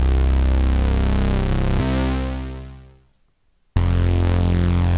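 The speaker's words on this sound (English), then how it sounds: "I'm going to have some cool synth sounds like this." Synthesizer tones played on a keyboard for a band's set, a loud sustained chord that fades to near silence before another bright, full synth sound cuts in abruptly, with no voices.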